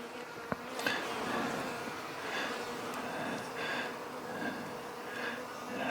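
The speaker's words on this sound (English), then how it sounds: "They're very, nice looking bees. Really healthy looking bees." Honey bees buzzing around a three-medium backyard hive in winter, a steady close hum with individual bees droning past in repeated swells, no talk.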